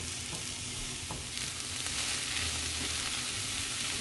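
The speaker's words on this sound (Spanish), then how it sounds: "Una pizquita de sal y aquí lo vamos a sofreír unos 2-3 minutitos solamente." Chopped poblano pepper, green onion and garlic with a pinch of salt sauté in a hot pan, giving a steady close crackling sizzle with faint stirring scrapes and no voices.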